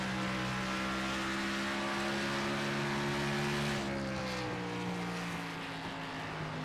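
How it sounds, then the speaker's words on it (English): Xfinity race cars at Phoenix Raceway, a loud sustained engine drone with several overlapping tones that shift in pitch as the cars pass and fade slightly toward the end, no talking. "these Xfinity cars are, I think, one of the best sounding cars"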